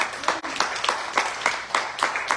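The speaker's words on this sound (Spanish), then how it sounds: "Le brindamos aplausos al Señor por ello." A church congregation claps in loose, rhythmic bursts that repeat steadily, close and fairly loud, with no voice over them.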